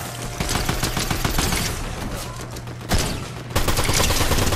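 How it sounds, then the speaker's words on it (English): Rapid video game gunfire crackles in dense overlapping bursts, a near-continuous fusillade of sharp shots with a brief lull and a louder volley near the end. "I'm getting shot at."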